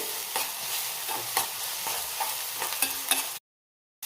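Sliced onions sizzle in a pan with salt and chili for an onion bread roast, a steady hiss broken by repeated scraping stirs, close and fairly quiet, cutting to silence near the end.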